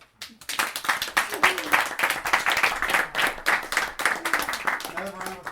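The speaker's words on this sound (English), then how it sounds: "Another round of applause for Jonie McIntire." Applause for a poet at a parlor poetry reading: a smallish audience clapping in a brisk, uneven patter of distinct hand claps, close by, with voices talking over parts of it.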